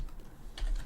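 Quick keystrokes on a computer keyboard while typing code, a short soft patter of clicks up close in a quiet room.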